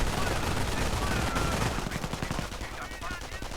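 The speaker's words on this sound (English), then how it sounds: "Troops are taking heavy fire from mortars and MG42." A video game battle between British and German troops, with MG42 machine-gun bursts and mortar fire, forms a dense, loud, continuous barrage of rapid shots and blasts that eases slightly toward the end.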